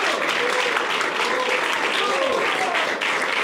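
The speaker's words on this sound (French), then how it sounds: "On peut vraiment encore les applaudir." Steady applause from an audience at a French talk-show event on farming, a dense even clatter of hands filling the whole stretch, with faint voices murmuring underneath.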